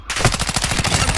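Rapid automatic gunfire in a military shooter video game, a fast even string of close, loud shots starting abruptly and running without pause.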